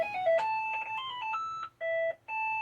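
A mobile phone gives off a run of electronic tones at shifting pitches, clear and close in a quiet room. The pattern breaks off briefly, then two more steady beeps follow.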